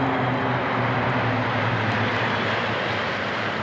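Oryx medium utility helicopters and a Super Lynx 300 maritime helicopter fly past in military formation, producing a loud, steady, roaring rotor and engine noise that fills the whole stretch without pause.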